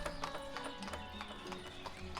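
Horses clip-clopping in the village-building video game Ostriv, a quick, steady patter of hoof clops at moderate distance, faint and continuous with no talk.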